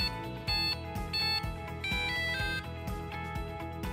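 Electronic beeps and melodic test tones from a Compat Ella enteral feeding pump, a rapid run of short, bright, ringtone-like notes repeating steadily and loudly, with no voices.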